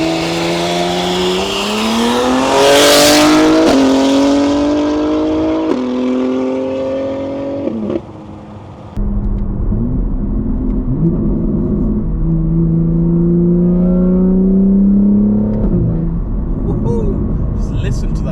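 A 1000 hp BMW G81 M3 revs hard on rolling anti-lag, its engine note climbing in repeated loud sweeps with sharp pops and crackles, then dropping to a lower rumbling idle, close and dominant throughout.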